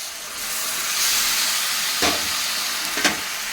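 Onions, tomatoes and chicken fry in a pan for chicken curry, a continuous loud sizzle with a couple of clinking stirs of a utensil toward the end.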